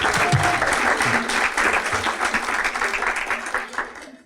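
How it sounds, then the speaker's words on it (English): An audience at the 2017 Educator of the Year Awards breaks into sustained applause, steady and full before tapering off, with a voice faintly beneath it. "Let's give her another round of applause."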